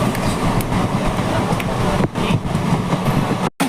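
The Indo-Ceylon Boat Mail passenger train runs on the rails at night with loud, steady rumbling and rattling from inside the carriage, broken only by a brief drop near the end.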